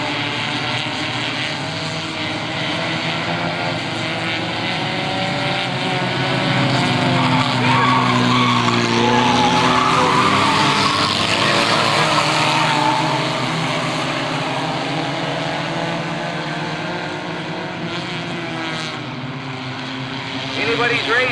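Race cars roaring around a track in a 1998 race, a dense continuous wash of engine noise swelling louder near the middle as the pack passes, with a commentator talking over it.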